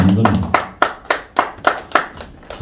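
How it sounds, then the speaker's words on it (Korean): An audience at a political party training meeting in South Korea claps in unison, with about eight sharp, evenly spaced, rhythmic claps right after a brief moment of speech. "박수 치시려면 세게 치고"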